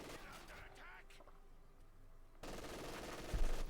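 MG42 machine-gun fire crackles in a Company of Heroes 2 battle between German Wehrmacht and Soviet forces: faint at first under a commentator's voice, then a sudden sustained burst of dense fire that grows louder.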